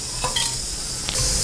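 Whole spices (cinnamon, cloves, bay leaf and cardamom) frying in ghee and refined oil for mutton biryani, a close, steady sizzle with brief scraping stirs.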